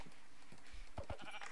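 Minecraft sheep bleat in short, wavering calls from the game, mixed with a few soft thumps under a steady background.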